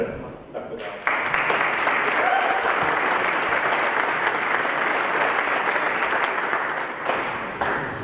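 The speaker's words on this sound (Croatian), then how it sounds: "pozovem na jedan veliki aplauz za organizatore" An audience at a WordPress conference gives a big round of applause for the organizers, dense, sustained clapping that starts after a brief moment of speech and fades slightly near the end.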